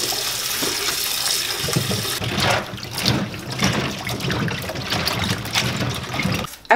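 Running water from a kitchen sink tap splashes over squash being washed, a steady close rush that shifts as the vegetables move under the stream, with no talking.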